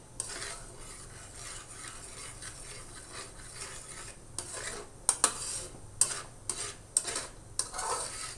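Sugar being stirred in a pan over low heat, a soft steady scraping with a faint sizzle, then a few sharp metallic clinks of the utensil against the pan near the end, close up and without talk.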